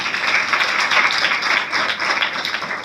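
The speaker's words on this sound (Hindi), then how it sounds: "उनके लिए तालियां बजाएं सभी लोग" A church congregation claps together during a sermon, a steady, fairly loud and close rolling patter of hands with slight pulses in intensity.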